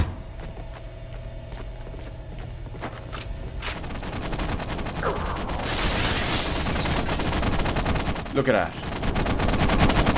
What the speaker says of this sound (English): That gun was going crazy.